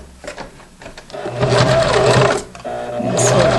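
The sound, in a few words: sewing machine stitching apron strap seam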